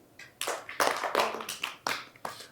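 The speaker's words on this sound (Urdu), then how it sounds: "قدسیہ کی امی کے لیے تالیاں ہو جائے ویسے" A small scattered round of applause at a children's school talent show, a few separate bursts of clapping hands that start and stop, close by and moderately loud with no voices.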